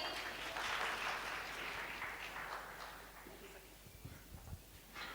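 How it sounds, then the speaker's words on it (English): An audience applauds a speaker at a youth session of a multi-party democracy forum, a steady wash of clapping that fades toward the end, with a few louder knocks and bumps near the close. "A hand of applause for Miss Kimberly."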